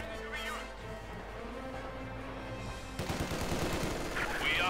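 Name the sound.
machine gun fire in Company of Heroes 2 video game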